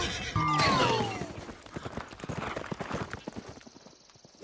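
Horse hooves clip-clop at a quick, steady rhythm close by in a cartoon scene, following a loud opening burst, with no talk over the beats.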